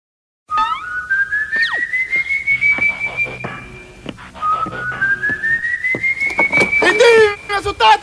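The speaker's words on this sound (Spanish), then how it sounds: "Un raro silbido penetrador y espeluznante comienza a dejarse oír" A piercing whistle slides slowly upward in two long eerie glides, loud and near, with faint chirps around it.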